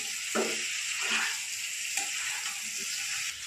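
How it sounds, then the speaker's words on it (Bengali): Spices for a fish curry of live foli fish with data stalks and potato sizzle steadily in a pan, with a bright continuous hiss and a few louder bursts as the masala is stirred, close and alone. "আমার মশলা কষানো হয়ে গেছে"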